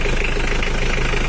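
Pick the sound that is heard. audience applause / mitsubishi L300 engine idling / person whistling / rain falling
mitsubishi L300 engine idling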